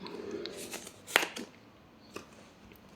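Tarot cards are shuffled and riffled by hand, soft papery rustles with a sharper snap near the middle and a few lighter taps after, close and fairly quiet.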